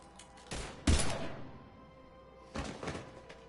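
Gunfire in a Mass Effect Legendary Edition firefight comes in two loud volleys, the first with a heavy booming hit, the second a shorter clatter, each ringing out into a dim hum.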